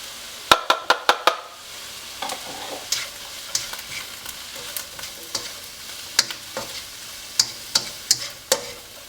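Onions frying in a pan for Filipino pancit bihon as garlic goes in, with a steady low sizzle broken by sharp utensil scrapes and clacks against the pan, a quick burst of taps at first, then spaced strokes.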